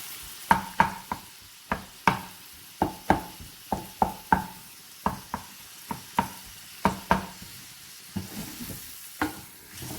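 Prawn karahi masala with tomatoes fries in a pan while a spatula stirs it, scraping and knocking against the metal about once or twice a second over a soft, steady sizzle.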